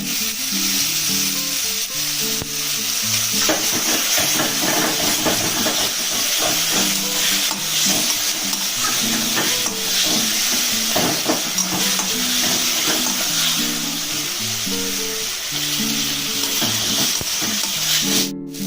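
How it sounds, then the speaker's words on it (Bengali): Onion, chopped tomato and spices fry in a pan, giving a loud, continuous sizzle and hiss with repeated stirring scrapes throughout, heard close and with no speech over it. "মশলাটা দিয়ে খানিকক্ষণ ভালোভাবে কষবো"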